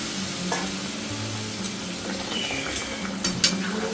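Potato and coconut curry sizzles and fries steadily in a pan while being stirred, with a few brief splashes and spoon scrapes as a little hot water goes in; no voices.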